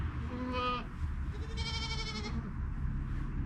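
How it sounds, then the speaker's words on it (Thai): Young goats bleating on a natural livestock farm in Germany, two or three wavering, nasal cries at moderate distance over steady outdoor background noise. "มีลูกแพะด้วย"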